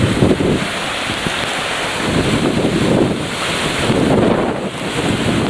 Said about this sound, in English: we have a bloody sodding river in our garden today